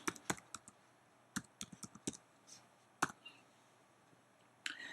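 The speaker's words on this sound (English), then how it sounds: "Then we bring up a browser window and type in the URL of the robot." A URL being typed on a computer keyboard, with quick bursts of crisp key clicks in irregular clusters, a short pause, then a few more taps, close and quiet.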